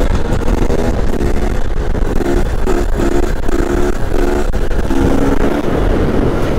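A 250 motorcycle engine revs hard at a standing start, loud and close, with a steady rising and falling drone and rhythmic throttle pulses throughout.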